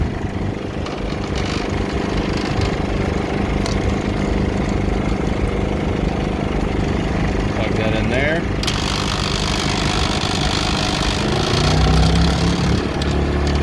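A Champion 2000-watt inverter generator running as a truck's auxiliary power setup, a steady mid-pitched engine hum throughout, fairly close, with someone speaking briefly over it.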